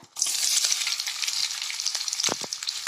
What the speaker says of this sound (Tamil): நல்லா ஹீட் ஆனோடனே 2 பெரிய வெங்காயத்தை கட் பண்ணி இதில் சேர்த்துக்கோங்க.